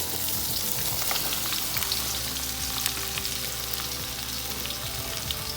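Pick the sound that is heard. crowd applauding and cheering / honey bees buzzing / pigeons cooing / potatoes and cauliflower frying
potatoes and cauliflower frying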